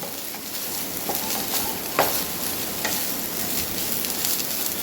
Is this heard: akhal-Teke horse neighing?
no